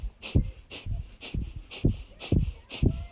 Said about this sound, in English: So rapid breaths out of the nose